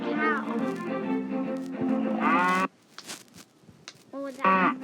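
A toy cow lets out a drawn-out mechanical moo as it is rolled, cutting off abruptly; people talk nearby and another short moo-like burst follows near the end.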